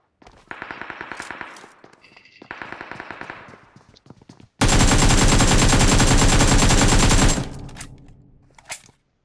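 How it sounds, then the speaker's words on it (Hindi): Automatic gunfire from a mobile shooter game, with several rapid bursts and then one long, loud sustained volley lasting about three seconds, ending in a few scattered shots. "वहाँ पे फायर भी कर रहा है"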